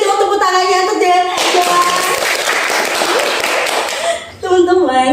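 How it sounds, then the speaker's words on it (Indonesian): Audience applause breaks out at a talk-show style school event, dense clapping filling several seconds between stretches of voices, fading briefly before speech resumes. "Boleh dong tepuk tangannya untuk Johan."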